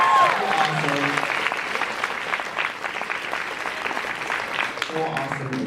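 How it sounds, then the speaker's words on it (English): Audience applause at a university campus event, a steady wash of clapping across the room with a voice speaking over it near the start and again at the end. "Let's give them all a round of applause."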